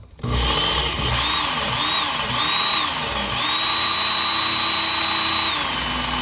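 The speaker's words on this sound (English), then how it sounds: "For this belt, I like to raise the speed up some, just to further hone the edge a little bit." A Work Sharp belt grinder running at raised speed while honing a knife blade edge, a steady loud motor whine with a rising pitch that settles into a sustained high tone, continuous and close with no talking.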